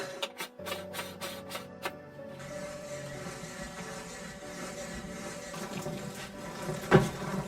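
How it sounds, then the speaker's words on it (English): Meat is minced in a manual, hand-cranked meat grinder, the meat slightly frozen, giving a steady grinding, rasping churn. A few sharp knocks come first, then continuous low mechanical grinding with a brief louder scrape near the end. "There is a manual meat grinder at home, and with it these meats will be prepared minced."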